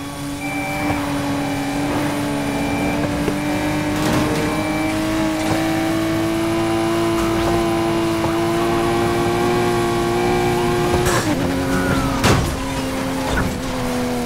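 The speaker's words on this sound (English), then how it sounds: "Word is our troublemaker's driving a Ferrari Testarossa." Ferrari Testarossa Coupe '84 engine in Need for Speed Heat on PS4, a steady loud mechanical drone with rising pitch as it accelerates, punctuated by brief shifts and impacts during a police chase.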